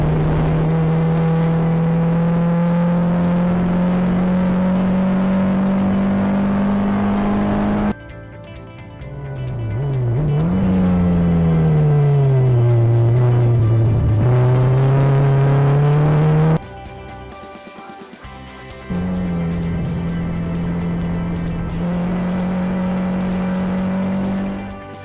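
Porsche 944 race cars run down the main straight of a circuit, engines droning loud and close with pitch shifts as they pass and change gear, one after another with no speech.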